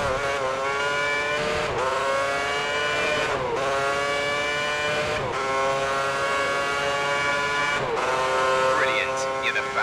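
F1 race car engine in F1 2010 video game at the Bahrain GP: a loud, high-pitched screaming engine climbing through gears, with repeated rising revs and quick dips at each upshift, sustained throughout the clip.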